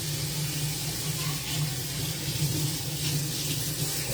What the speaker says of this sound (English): Got the water running.